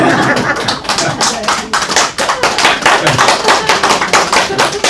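Lecture-hall audience clapping in a rhythmic burst, a dense series of close, sharp claps with some voices among them.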